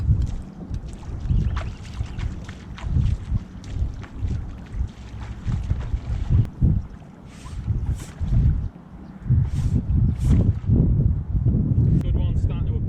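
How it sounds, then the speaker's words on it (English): Wind buffets the microphone on a small boat out on a river near sand flats, a continuous low gusty rumble that surges and dips for the whole stretch, loud and close. "Sorry about the wind,"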